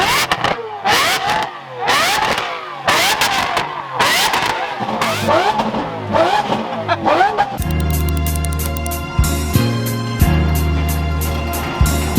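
A carbon-fibre Lamborghini Aventador revs outdoors in northern Arizona, a series of sharp throttle blips with crackling exhaust pops, then settles into a loud, steady idle rumble that continues to the end.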